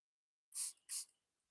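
A hand spray bottle misting plants gives two quick, close hissing squirts in succession, each a short burst of fine spray, with quiet before and after.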